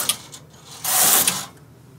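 A knitting machine carriage slides across the needle bed knitting a row, a single rushing, rattling sweep of about half a second framed by a few small mechanical clicks, close and moderately loud.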